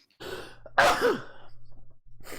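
One close, forceful sneeze with a brief intake of breath before it, followed by soft breathing.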